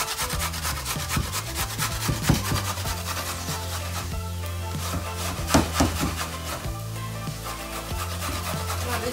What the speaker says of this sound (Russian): На крупной терке мы ее трем.